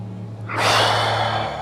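Deep, amplified breathing during a qi gong exercise, a long breathy exhale swelling in after a quiet start and holding steady for over a second, close and alone.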